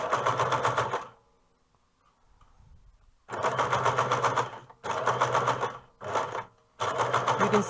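Sewing machine running close by as it sews a narrow seam on a fabric hood, loud rapid stitching in four bursts separated by short pauses, one long near-silent gap early on.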